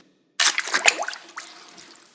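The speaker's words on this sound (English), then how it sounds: "I'm going to go ahead and dump these in water, let them soak in there for a couple of minutes" Sandpaper sheets for buffing a painted car dash are dumped into water to soak, starting with an abrupt splash and then moving into a run of sloshing, dripping and trickling water that slowly fades.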